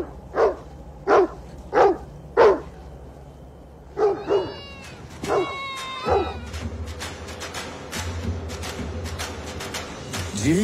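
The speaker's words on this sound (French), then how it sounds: "Pour communiquer avec nous, il s'est mis à aboyer." A Mongolian shepherd dog (bankhar) barks four times in a steady rhythm, loud and close, followed by further yelps and a whining, squealing call over a rumbling outdoor background.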